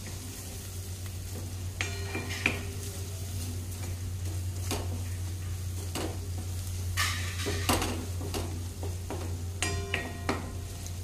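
A spoon scrapes and stirs spices sautéing in oil in a pan for chole, with a soft continuous sizzle and a low hum under scattered metallic clinks and scrapes, fairly quiet and close, no talk.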